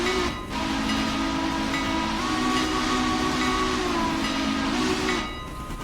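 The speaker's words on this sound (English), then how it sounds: "Kind of reminds me of the Y-Class engine, or the steam whistles," A steam locomotive whistle on a Mikado engine in the Railroader train simulator game gives one long, steady, sustained blast for about five seconds, loud and clear over a low rumbling train background, with no talking.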